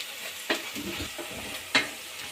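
Turmeric fried in a pan for mint rice, a spatula scraping and stirring over a soft sizzle, with two sharper clinks against the pan.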